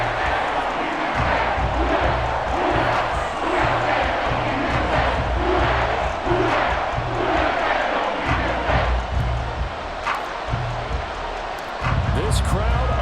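A big stadium crowd in the American football video game Madden 24 roars and cheers continuously during a tied fourth-quarter comeback, with a commentator talking over the din.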